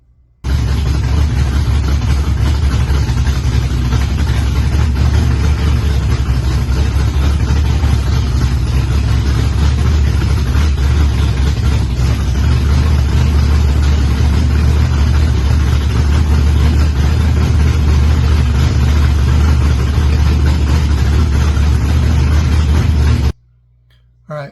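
A car's engine runs loud and steady at close range for over twenty seconds, a constant low rumble with no clear revving, then stops abruptly near the end.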